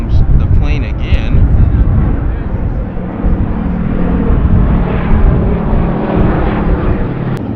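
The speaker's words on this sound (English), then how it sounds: "Here comes the plane again." A fixed-wing airplane passes overhead above an outdoor Corvette car show at the M1 Concourse, producing a loud, steady broadband engine roar that fills the scene with faint voices mixed in beneath it.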